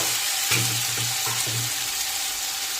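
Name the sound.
sautéing spice paste with fried potatoes in a pan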